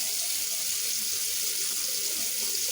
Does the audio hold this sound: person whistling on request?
no